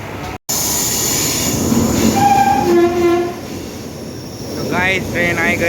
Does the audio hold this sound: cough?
no